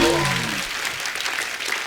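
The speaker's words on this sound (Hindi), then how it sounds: "जोरदार तालियां सोनम और दुलकर के लिए।" A studio audience on a comedy show claps and cheers for Sonam Kapoor and Dulquer Salmaan in a brief, full burst that stays steady to the end. A voice is heard at the very start.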